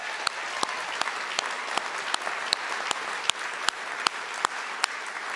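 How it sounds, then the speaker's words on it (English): Steady applause from an audience at a human rights awards ceremony, dense clapping that carries on evenly throughout with a few sharper claps standing out near the front. "One more round of applause for him."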